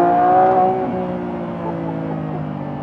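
The 1015 hp Lamborghini Revuelto V12 hybrid accelerates at about quarter throttle in hybrid mode, heard from inside the car as a loud, smooth engine tone. The note rises briefly, then settles into a steady drone that eases off slightly.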